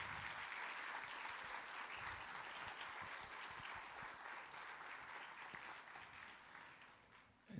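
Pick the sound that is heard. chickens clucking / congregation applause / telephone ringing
congregation applause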